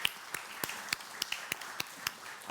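Faint, evenly spaced claps from a small audience applauding Chloe and Otto after a talk, about three per second, steady and sparse rather than a full roar, with no voices over them.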